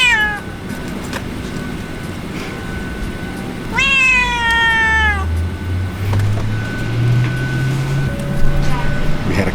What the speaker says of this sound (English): We had a couple meows.